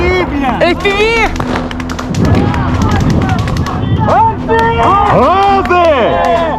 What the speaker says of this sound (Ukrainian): Що за звук? Граната!